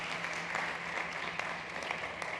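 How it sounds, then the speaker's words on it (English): Audience applause at a startup competition stage event, a steady wash of clapping lasting the whole moment, fairly distant and even, with no voices over it. "Big applause to Simon."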